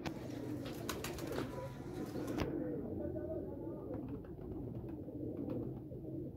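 A Missa jaaldar pigeon pair coos softly in a loft, low murmuring calls beneath a man's speech, with a few sharp clatters at the start.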